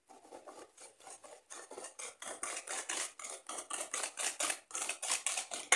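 A spoon scrapes around a bowl of lemon cake batter in quick, steady strokes, a rhythmic rasping that repeats close up with no talking.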